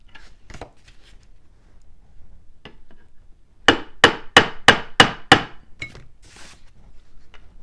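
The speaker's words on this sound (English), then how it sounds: "when you do what I'm doing right now with the hammer and the frets" A hammer taps frets into a Squier Stratocaster guitar neck: a few scattered light knocks, then a quick run of six sharp, loud strikes, followed by a couple of softer taps in a quiet room.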